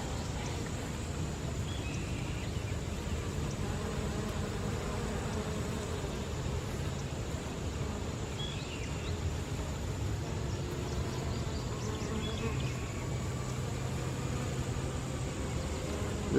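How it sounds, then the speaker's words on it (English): Bumblebees and honeybees buzz steadily around blooming sumac on a warm, breezy summer morning, a soft continuous drone of many insects under outdoor wind hiss, with a few louder passes nearby. "Look at all the bees on the sumac."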